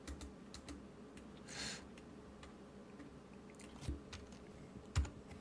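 Keys on a computer keyboard pressed a few times while working in Blender, faint clicks at close range over a steady low room hum, with a slightly louder tap near the end.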